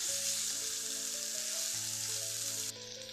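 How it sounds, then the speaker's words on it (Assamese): Meat frying in a pan while being stirred, a steady loud hiss of sizzling oil close up with faint stirring underneath, the hiss dropping abruptly near the end, no talk. "মাংসখিনি দি ভালদৰে অলপ লৰাই দিছোঁ।"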